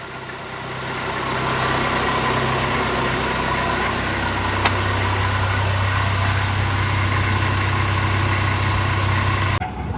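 A Mercedes RV engine idling with a weak, dead battery, a steady low rumbling hum that builds briefly at the start and then holds even and close, with a faint click partway through.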